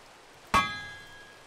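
A single bright metallic clang of a hammer striking iron ingots on an anvil in TerraFirmaCraft, a Minecraft mod, ringing out with a shimmering tone that slowly decays, close and alone.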